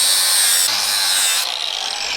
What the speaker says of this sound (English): Let me take and cut that with a flapper on this side.